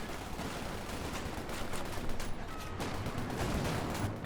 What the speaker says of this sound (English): second Panzerwerfer barrage